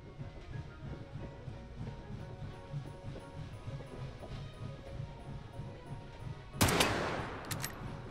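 Gunfire in the VR game Hot Dogs, Horseshoes & Hand Grenades: a sharp, loud shot cracks near the end after a stretch of low rumbling background, followed by a few quieter trailing pops.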